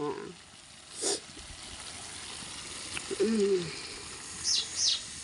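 A few short common myna calls ring out near the listener: a harsh squawk, then a chattering call, and two sharp notes at the end over faint background noise.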